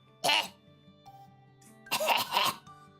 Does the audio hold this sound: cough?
yes